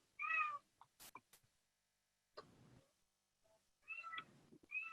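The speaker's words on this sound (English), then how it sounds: "apologies if you can hear my cat meowing in the background" A cat meows several times in short, fairly close calls, separated by quiet gaps and a few faint clicks.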